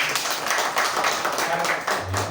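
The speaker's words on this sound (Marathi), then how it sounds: "टाळ्या झालं पाहिजे सर." An audience at a business session on cost saving and profit growth claps steadily, a dense, even patter of many hands filling the room, with a voice briefly heard underneath.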